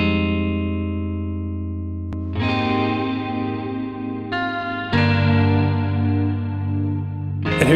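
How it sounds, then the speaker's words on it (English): Guitar chords ring out through a heavy, washy reverb, with long sustained tails that swell and bloom as each new strum lands, several distinct hits over a continuous dense wash, no voices. "I love this heavy reverb I made for guitar."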